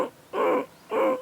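A voice imitates a pigeon's throaty coo for ujjayi yoga breathing: three close, breathy, hollow tones separated by short pauses.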